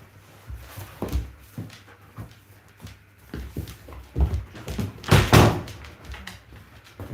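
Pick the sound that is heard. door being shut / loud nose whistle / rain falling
door being shut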